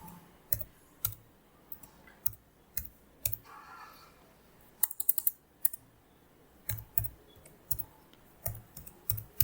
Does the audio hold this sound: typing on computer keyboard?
yes